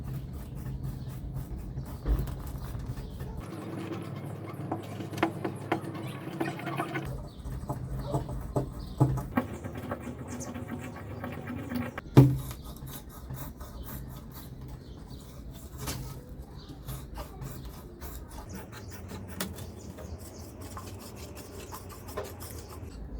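A large screw being worked by hand into a clay flowerpot to bore a drainage hole, giving continuous close gritty rubbing and rasping with scattered sharper scrapes and one louder knock, with no talk.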